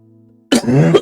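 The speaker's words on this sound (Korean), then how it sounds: "이렇게 기침이 나오는지 모르겠네요" A preacher coughs once, loud and close, with a rough, throaty burst after a moment of quiet room hum during an early-morning prayer sermon.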